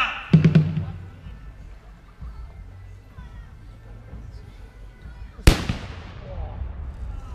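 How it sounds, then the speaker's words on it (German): A single loud cannon boom at an outdoor historical festival cracks out and rolls away in a long echoing decay, with faint voices and a smaller pop earlier. "Jetzt kommen die Kanonen, oder?"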